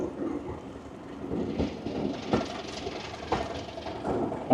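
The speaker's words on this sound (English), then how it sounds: "It's really, really raining." Heavy rain pours on the Severn Valley Railway during a Class 37 birthday event, a dense continuous hiss with irregular louder splatters and thumps, no voices present.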